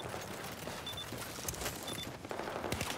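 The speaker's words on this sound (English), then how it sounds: "But he's getting shot there from Vando." Gunfire rattles in a Battlefield match during a competitive team game, with scattered rapid shots and bursts at moderate distance over a steady, noisy battle backdrop.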